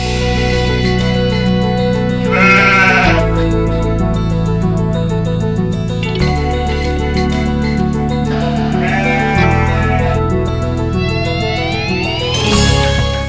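Goats bleating on a goat farm in Pathardi, Ahmednagar, with repeated loud, close calls that overlap and follow one another steadily, with no talk among them.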